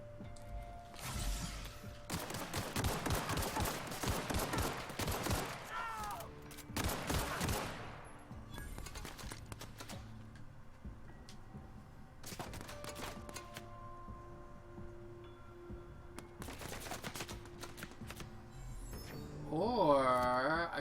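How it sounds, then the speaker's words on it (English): Shotgun and rifle fire in the sci-fi role-playing shooter The Outer Worlds: bursts of close, loud blasts early on, then sparser single shots with quieter gaps and game effects between them. "Shotgun blast in the face!"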